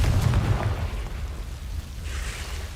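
A Confringo blasting spell in Hogwarts Legacy bursts with a loud, low rumbling explosion at the start, then a broad roaring hiss fades over a couple of seconds.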